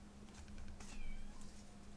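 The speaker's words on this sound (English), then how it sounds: "Probably hear Uno in the background over there meowing" A pet cat meows a few times in the background of a quiet indoor room, the calls faint and rising and falling in pitch.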